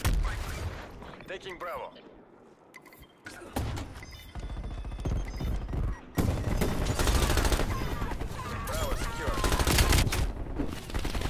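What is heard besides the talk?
shotgun fire in video game Call of Duty: Cold War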